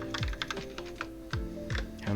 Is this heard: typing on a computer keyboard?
yes